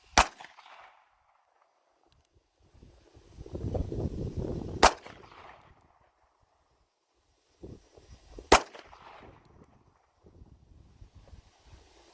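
Several sharp, isolated shots ring out from an Iver Johnson Cadet .22 Magnum revolver fired single action, each a loud crack spaced seconds apart, with quiet shuffling and handling noise between them and no speech.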